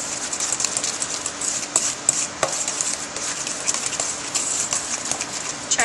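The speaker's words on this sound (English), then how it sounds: "Just beat the egg in there." An egg is beaten into snickerdoodle cookie dough in a bowl, with steady close stirring, soft squelching and occasional sharp clicks of the utensil against the bowl.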